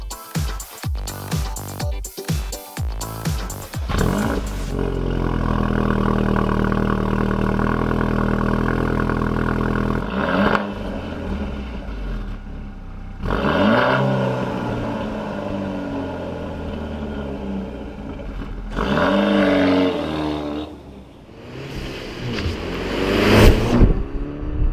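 A Peugeot 308 GTi's 272-horsepower 1.6-litre four-cylinder engine revs up hard and accelerates with a rising roar, followed by further bursts of revving and gear changes, loud and close.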